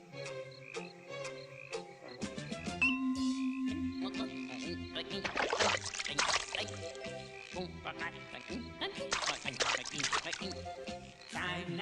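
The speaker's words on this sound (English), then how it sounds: "In case you couldn't understand what a froggy croaks" Croaking frog sounds woven through a bouncy musical track, repeating rhythmically alongside instruments and a sung vocal for the whole stretch.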